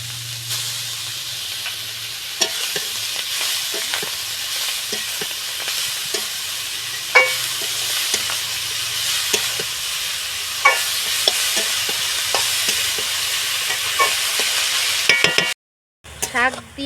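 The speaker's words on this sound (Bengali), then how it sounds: "মাছের মাথা দিয়ে একটু নেড়ে চেড়ে এখন দিয়ে দেব শাক" A fish head stirred with bete greens in a pan, spatula scrapes and knocks repeating over a steady frying hiss and sizzle, close and fairly loud, with a brief gap near the end.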